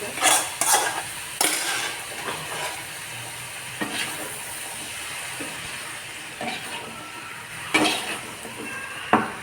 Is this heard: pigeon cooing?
no